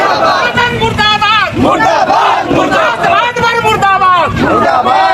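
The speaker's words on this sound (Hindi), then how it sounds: "मुर्दाबाद के नारे लगा रहे थे" Crowd in Jaunpur chanting protest slogans against Om Prakash Rajbhar, loud massed voices shouting in rhythmic bursts close by, continuous throughout.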